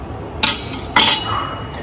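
A metal kitchen spatula handled and set down, giving two sharp metallic clinks about half a second apart and a fainter tap near the end, close and fairly loud.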